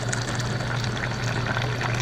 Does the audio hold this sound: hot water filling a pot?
yes